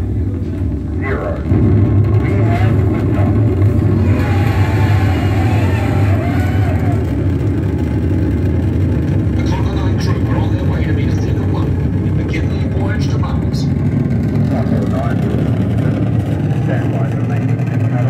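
Rocket engines light for a Lego space launch from the Pacific Space Launch Centre. A loud, steady roar lasts throughout, while a voice speaks over it.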